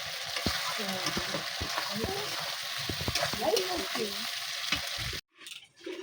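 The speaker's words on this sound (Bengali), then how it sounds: "এই যে দেখুন চিকেন কষা হচ্ছে, প্রায় হয়ে এসেছে চিকেন কষাটা।" Chicken kosha fries in a pan at home, a continuous close sizzle with stirring clicks, while a voice talks faintly beneath it before a short break.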